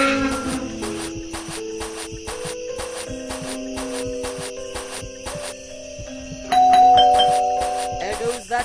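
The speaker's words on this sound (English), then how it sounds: "There goes that stupid bell again." A doorbell rings in the Scary Teacher 3D video game, its chiming tones repeating over a busy, layered game soundtrack that swells louder near the end.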